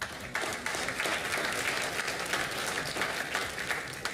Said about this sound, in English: Huge round of applause for both of them one more time.